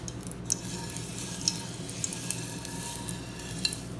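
Hot oil sizzling in a pan after a test piece is dropped in, a soft continuous crackle with occasional small pops, fairly quiet and steady.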